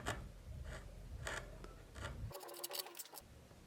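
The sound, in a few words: carving knife cutting wood under a stop cut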